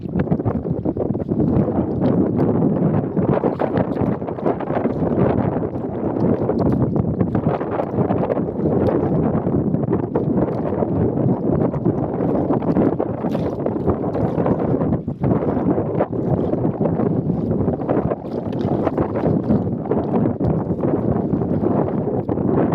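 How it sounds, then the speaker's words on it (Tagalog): Strong wind blusters across a microphone out on open sea off Bolinao, Pangasinan, during boat fishing, a steady loud broadband roar with gusty swells and water-vehicle rumble throughout, with no talking. "Medyo lumakas na nga rin ang hangin sa oras na ito"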